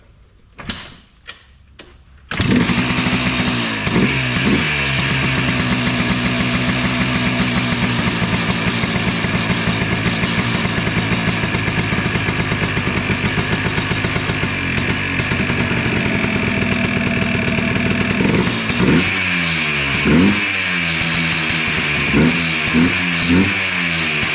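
A 2002 Yamaha Blaster ATV, run without choke and in neutral, sputters with a few short knocks, then starts and idles loudly up close before revving sharply several times near the end.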